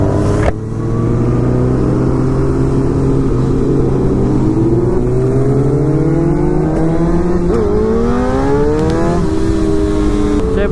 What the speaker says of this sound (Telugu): ఇప్పుడు actual fun with the super bikes start అవుతుంది.